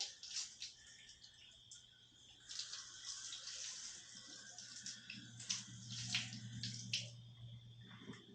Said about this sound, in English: Take your water hose or water,